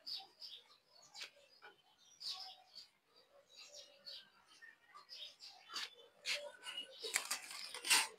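Pigeons in a loft give scattered, soft chirps and short calls, close but fairly quiet, rising into busier bursts toward the end.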